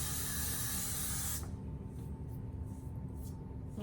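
A strong hair glue aerosol sprays around a hairline over a bald cap, a loud continuous close hiss for over a second, followed by quieter faint hissing bursts.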